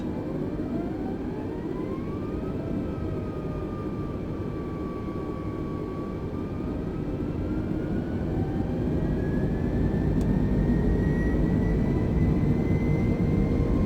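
Airbus jet in Microsoft Flight Simulator rolling down the runway on its takeoff run, a steady loud engine roar with rising whine tones building over several seconds, no voices.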